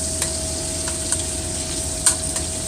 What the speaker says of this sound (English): Get that all fried up.